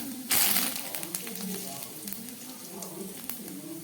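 Panch phoron spices and curry leaves hit hot oil for a homemade singara filling. A loud sizzling burst flares up, then settles into a softer crackling fry with light stirring.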